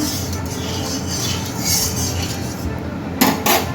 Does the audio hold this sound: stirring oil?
yes